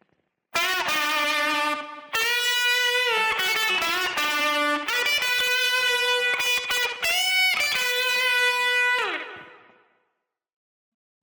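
Electric guitar solo through a Line 6 Helix with Fuzz Face fuzz, tube driver and pitch-echo doubling, a doubled, slightly detuned tone, sustained notes and bends played up close, ending on a ringing note that fades out.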